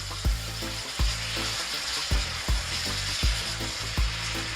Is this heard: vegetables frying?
yes